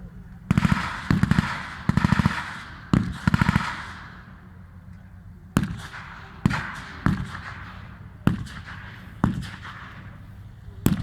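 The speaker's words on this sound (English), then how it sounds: "Gunfire erupts from the tree line on the left as the Germans try to defend the crossroads and the flanks" Gunfire at a WW2 battle re-enactment: sharp bursts of rapid shots followed by single loud cracks spaced about a second apart, each ringing out with a short echo.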